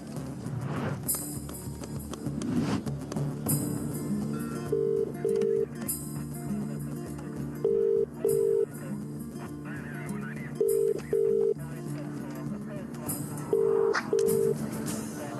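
A telephone line tone sounds in repeated paired beeps, spaced evenly over several seconds, under a music score and background movie sound while a call is being placed.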